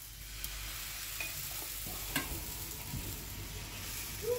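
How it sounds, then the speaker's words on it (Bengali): Pieces of patishapta stuffed with kheer fry in a pan, giving a faint, steady sizzle with a couple of soft stirring clicks and no voices. "বড় বড় করে বানাচ্ছি, এক এক করে সব ভেজে নিচ্ছি"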